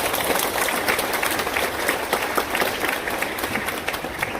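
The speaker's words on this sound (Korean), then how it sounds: "감사의 마음 담아서 박수로 하나님께 감사합니다." A church congregation claps together in sustained, even applause that fills the room steadily from start to end, no voices standing out.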